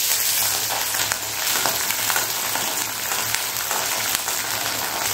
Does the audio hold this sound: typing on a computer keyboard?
no